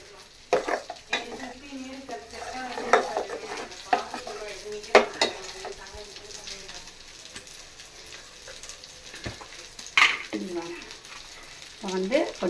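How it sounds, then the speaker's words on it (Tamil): A traditional Tamil fish curry fries in a pan while being stirred, giving a soft sizzle under irregular clinks and scrapes of a utensil against the metal, with a brief murmur of voices. "கலக்கி விடு."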